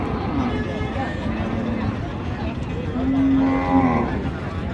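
A cow lets out a long, deep moo amid a crowded cattle market hubbub, with people chatting nearby throughout.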